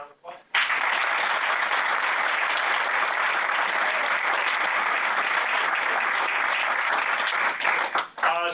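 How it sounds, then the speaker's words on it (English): An audience claps steadily after a guest lecture on wildlife at a lakeside island lab. The applause is dense and sustained for about eight seconds, with brief talk at the start and end. "if we can give a round of applause"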